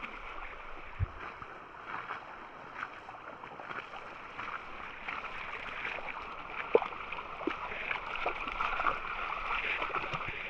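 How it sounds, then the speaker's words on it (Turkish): An ice-cold mountain stream near a tea-field campsite in Arhavi flows with a steady, soft rushing and light gurgling, close by and fairly quiet, with occasional small splashes over the water. "Buz gibi güzel dere."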